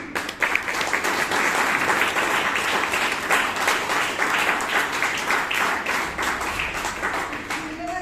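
A Toastmasters club audience gives a sustained, dense round of applause welcoming a member to the lectern, loud and steady throughout with many hands clapping at once.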